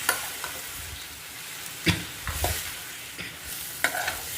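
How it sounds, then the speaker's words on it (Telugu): Tomatoes sizzle in a spoonful of hot oil in a kadai while a spoon stirs them, a steady fry hiss broken by several sharp scrapes and clacks against the pan, close and moderately loud with no voices. "ఆయిల్ హీట్ అయినాక టమాటాలు వేసుకోండి కలుపుకోండి"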